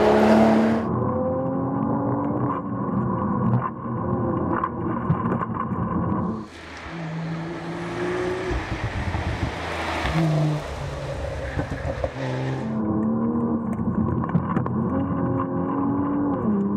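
An Autocraft-tuned Toyota GR Supra accelerates hard, its engine note climbing in strong rising sweeps broken by two gear changes, with a loud, rushing roar in between and no voices.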